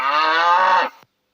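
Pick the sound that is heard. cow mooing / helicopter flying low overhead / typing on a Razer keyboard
cow mooing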